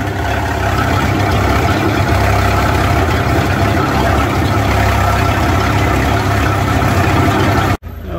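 A boat engine runs steadily after de-winterizing, a continuous loud rumble with no breaks until a brief cut near the end.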